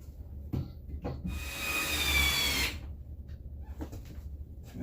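A power drill drives a screw into a wooden pocket door frame in one close, whining burst of about a second and a half, set between quieter handling knocks and rustles.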